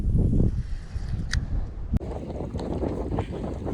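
Strong wind buffets the microphone on a pond during kayak fishing, a steady loud rumble with gusts throughout and no talking.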